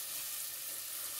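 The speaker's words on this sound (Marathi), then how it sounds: "मी त्यात कांदा ऍड करते। कांदा थोडा आपण तेलामध्ये छान असा परतून घेऊया।" Chopped onion sautéing in hot oil in a home kitchen for Marathi-style mackerel curry, a steady soft hiss of frying with no pauses, close and fairly quiet.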